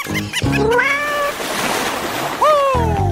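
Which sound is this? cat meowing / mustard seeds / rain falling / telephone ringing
cat meowing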